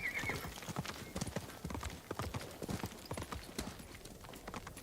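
Hoofbeats of a horse galloping across terrain in the samurai video game Ghost of Tsushima, a fast steady clip-clop rhythm up close, with a brief whinny near the start.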